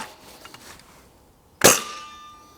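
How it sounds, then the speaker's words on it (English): A Nerf Breacher pump-action shotgun fires a single shell loaded with a full-length dart, one sharp, loud snap with a short ringing tail after a quiet stretch of faint handling noise. "next up I'm going to see how far each of these shoot, starting with the single shell with a full-length dart in there."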